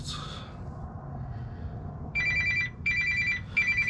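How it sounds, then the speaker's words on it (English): A telephone bell rings three times in quick, evenly spaced bursts, clear and fairly loud over a low steady background hum in a garage where a transmission is being fitted to a 1967 Buick Skylark. "Not the phone."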